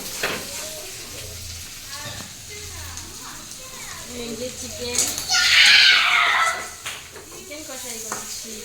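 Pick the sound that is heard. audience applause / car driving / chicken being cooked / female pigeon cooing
chicken being cooked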